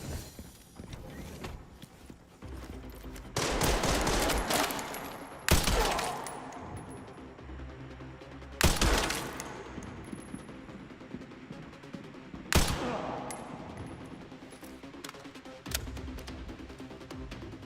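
Gunfire in the survival-horror video game Resident Evil Requiem: several sharp, loud shots spaced a few seconds apart over a steady game soundscape, with mechanical clanks and footstep-like sounds between them.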